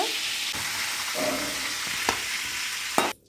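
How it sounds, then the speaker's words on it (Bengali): Chicken pieces frying in oil for spicy biryani, a loud steady sizzle with occasional stirring clicks and scrapes, ending abruptly. "মাংসটা ফ্রাই হয়ে গেছে তুলে নেওয়া হচ্ছে তোমরা দেখতেই পাচ্ছ"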